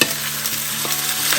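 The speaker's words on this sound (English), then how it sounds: "so these are all sputtering, so before we burn" Spices sputter and crackle in hot oil in a pan, a dense burst of sharp sizzling pops heard close up, with no voices.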